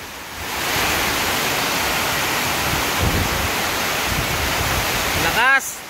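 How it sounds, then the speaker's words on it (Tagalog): Loud, continuous roar of heavy monsoon rain and gusting wind, broadband and steady, with a brief voice-like sound near the end. "Lakas ng hangin."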